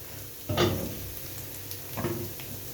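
Minced-meat kofta tipped onto browned onions in a hot pan, a soft sizzle with two short bursts of stirring and scraping against the pan, close and fairly quiet, with no talking.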